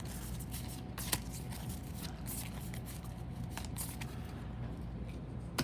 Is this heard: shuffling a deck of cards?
yes